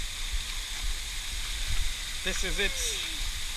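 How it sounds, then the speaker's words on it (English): The Chitsanze waterfall in Kwale County gives a steady, broad rushing hiss that runs the whole time, with someone speaking briefly over it near the end. "I'm experiencing a waterfall."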